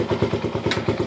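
A 1973 Honda SL70 mini bike engine idles close by, a quick, even chain of low thumping pulses with a light mechanical clatter.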